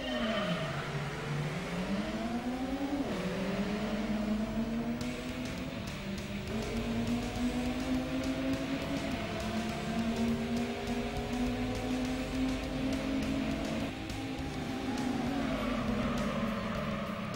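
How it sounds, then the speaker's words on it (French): Racing car engines in the original PlayStation Gran Turismo, including a Supra turbo, whine steadily with rising revs, brief dips at gear changes and a faint skid, loud and continuous. "On commence à bien entendre les moteurs là."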